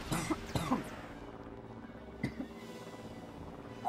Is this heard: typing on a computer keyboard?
no